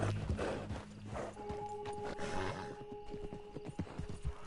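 Horse hooves clip-clop in a quick uneven rhythm with a faint whinny in the game Red Dead Redemption 2, over a dense layer of ambient noise and a steady tone.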